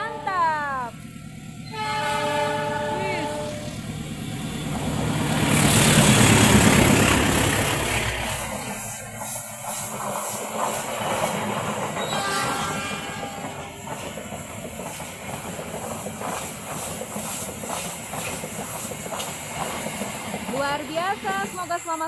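The Lodaya passenger train from Bandung to Solo Balapan rumbles past close by in Indonesia, its horn sounding and wheels clattering rhythmically over the rails as the noise swells and fades.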